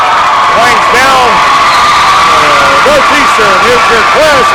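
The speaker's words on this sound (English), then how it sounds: "Fans are up on their feet, cheering for the Cougars." A crowd of girls varsity basketball fans cheering and whooping for the Cougars at a Class B Section 7 championship game, loud and continuous, with a commentator talking over the roar.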